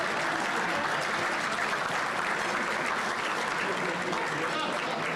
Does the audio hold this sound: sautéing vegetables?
no